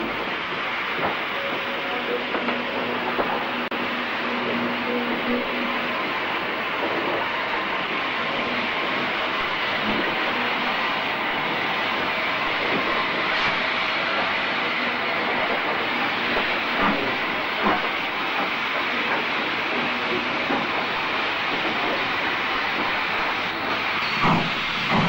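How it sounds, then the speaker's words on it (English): A steam-era iron ore freight train rolls steadily off the relief line and through Hatton station in the 1960s, a continuous broad hiss and rumble of wagons and steam holding level for the whole stretch, with no voices. "Another iron ore train pulls steadily forward off the relief and through the station."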